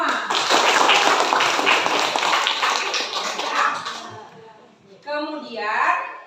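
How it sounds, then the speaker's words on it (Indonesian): A group of students in a classroom claps hands together in a dense, lively burst that slowly fades out. A voice then speaks briefly alone. "kita tepuk tangan untuk kita semua"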